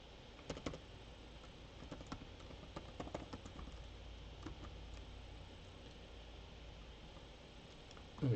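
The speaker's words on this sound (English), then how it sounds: "I'll type my email in here" Keys clack on a computer keyboard in quick, uneven bursts of typing, faint and close, in a quiet room with a soft background hum and no talking.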